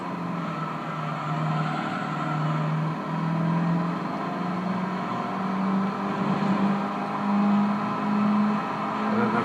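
A race car engine drones in Gran Turismo Concept 2002 Tokyo-Geneva on the PS2. The steady, buzzing whine rises and falls gently as it holds high revs through a lap, heard alone and fairly loud.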